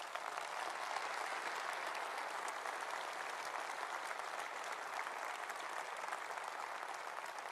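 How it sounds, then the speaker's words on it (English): A large audience at the 2017 Conservative Party Conference claps continuously during a speech, a dense steady patter of applause that holds at an even level throughout. "leading the clap there"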